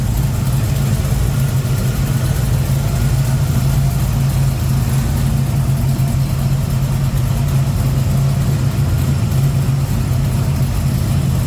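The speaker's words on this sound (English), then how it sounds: "Good looking, good sounding engine bay." A deep, rumbling V8 engine in a 1969 Chevrolet Camaro RS Convertible idles steadily up close, its low throbbing tone constant and loud throughout with no revving.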